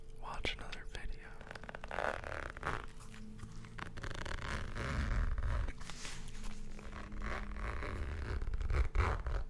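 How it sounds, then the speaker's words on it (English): Zipper teeth rasp open and shut repeatedly up close, with soft whispering in the background. "Any zipper sound fans in here?"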